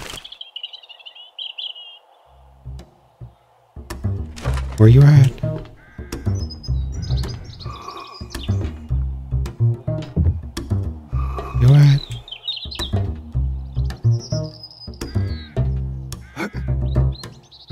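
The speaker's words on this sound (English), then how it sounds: "Should be a bird hiding." In 7 Days to Die, a bird gives scattered high chirps and harsher caw-like calls at intervals while someone talks over much of the scene.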